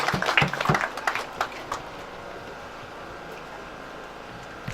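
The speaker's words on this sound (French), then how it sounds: "Est-ce qu'on peut applaudir, s'il vous plaît?" Applause at a building dedication ceremony in Fialah, a burst of scattered clapping at the start that thins out within two seconds, leaving quiet room tone.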